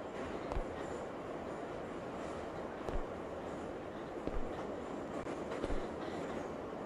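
A train rolling past in a GTA game, a steady dense rumble carrying periodic sharp wheel clacks and thumps, continuous and fairly close, with no talking.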